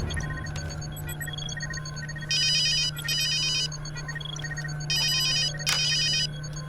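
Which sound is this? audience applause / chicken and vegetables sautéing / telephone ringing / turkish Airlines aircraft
telephone ringing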